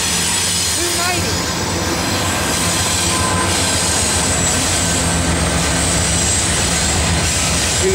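Norfolk Southern 290 autorack intermodal freight train led by CW40-9 and CW44-9 locomotives passes near Mableton: a loud, steady roar of rolling cars with wheel squeal, continuous throughout without a break.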